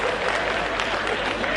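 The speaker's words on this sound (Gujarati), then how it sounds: "એવી મજા આવે તાળીઓ પાડવાની." Seminar audience clapping in a motivational talk hall, a dense steady wash of many hands lasting the whole moment at fairly close range, with no voices standing out.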